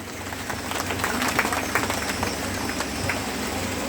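Steady applause from a devotional storytelling congregation at a religious discourse, a dense continuous patter of many hands sustained at even loudness throughout, with a low hum beneath and no clear talk.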